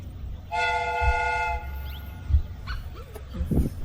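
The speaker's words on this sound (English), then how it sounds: "The steam whistle is ready to be used." In a Sherlock Holmes puzzle game, a replica train's steam whistle sounds one steady, loud multi-tone blast for about a second, set against low rumbling machinery, followed by scattered clanks and mechanical noises.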